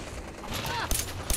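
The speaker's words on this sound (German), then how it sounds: "der hat voll auf Locke geschossen" Gunfire in Fallout 4, a quick volley of shots with sharp bursts toward the end, while German speech runs underneath.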